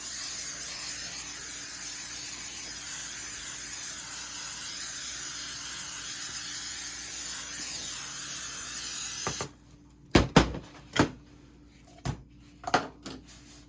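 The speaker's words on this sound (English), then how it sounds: "I'm using palm spray to spray my pan" A steady broadband spray of palm cooking spray onto a baking pan hisses continuously for several seconds, then stops, followed by a few sharp clatters of the pan being handled nearby.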